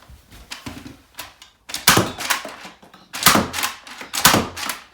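A Nerf Nailbiter blaster fires foam darts in a series of sharp, close mechanical thunks and clacks, some in quick pairs, with brief pauses between bursts.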